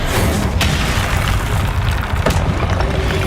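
The Incendio fire spell erupts in Hogwarts Legacy: a loud, dense roaring blast that fills the whole moment with rumbling, crackling energy and a couple of sharper bursts, with no talking.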